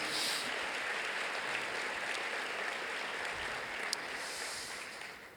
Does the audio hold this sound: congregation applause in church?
yes